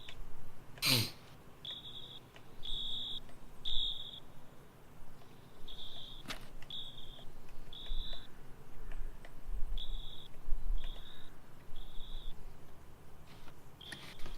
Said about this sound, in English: You can hear the system, right? The fire alarm system?